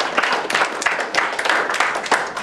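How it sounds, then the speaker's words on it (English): Patrons at an open mic comedy night give a short, uneven burst of clapping and applause, with distinct individual hand claps close by over a smaller crowd, lasting a couple of seconds. "Everyone give yourselves a round of applause just for coming out supporting live comedy."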